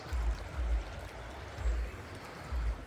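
Air escaping from a LeakDry waterproof sock held underwater, heard as close, low gurgling bursts of bubbles about once a second, with no talking.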